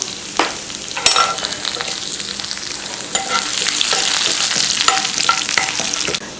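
Loud, steady sizzle of chopped garlic and dried red chillies frying in hot oil, with a few sharp crackles and stirring scrapes, no voices.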